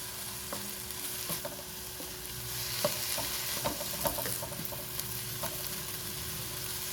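Minced keema with chopped tomatoes, onion and green chillies is stirred in a pan, giving a low continuous sizzle broken by scattered spoon scrapes and taps, a few slightly louder in the middle; nobody speaks.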